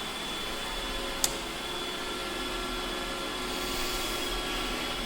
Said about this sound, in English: I'm going to put it in the other way in the Dremel.